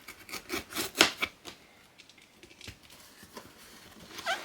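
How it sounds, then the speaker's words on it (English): A small utility knife scrapes and slices through a sticker seal on a cardboard book subscription box. The quiet, close rubbing strokes come in short bursts, busiest at the start and then sparser. "I'm going to need my trusty little knife to unbox this"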